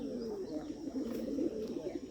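Bombay pigeons coo while feeding, a low, continuous throaty cooing close by with faint chirps behind.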